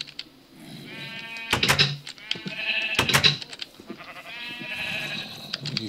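Sheep in Minecraft bleat repeatedly in quavering, nasal calls, loud and close, several overlapping in bursts with short pauses, mixed with soft game clicks and no talk.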